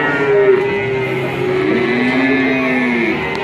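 Cattle calves moo in a barn, a long, loud, sustained lowing that is close and carries on alone.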